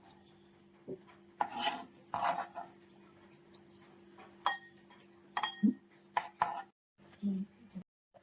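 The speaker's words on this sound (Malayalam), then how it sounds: "ഒരു ബോളിലേക്ക് നമുക്ക് ഈ കുക്കുംബർ ഇട്ട് കൊടുക്കാം" Chopped cucumber pieces drop and rattle into a bowl in a few soft, scattered clatters and light scrapes over a quiet kitchen background.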